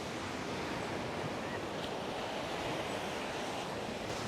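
Ocean waves wash in a steady surf roar at a Cozumel beach club, mixed with wind buffeting the microphone and no talking.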